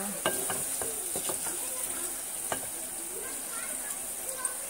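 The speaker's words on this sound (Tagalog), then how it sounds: "ipa-brown mo na ang onion para magiging paste" Onions browning in a pan for a potato dish hiss softly in oil while a utensil scrapes and taps the pan in irregular stirring strokes, close, with faint talk in the background.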